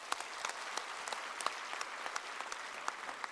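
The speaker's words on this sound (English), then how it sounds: "please respond with big applause if it is so" A large audience at the closing ceremony of the 6th World Congress on Disaster Management claps steadily, a dense, even patter of many hands from a moderate distance with sharper individual claps poking through.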